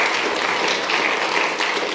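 A church congregation applauding at a Sunday service, a steady, full wash of many hands clapping together, close and sustained from start to finish.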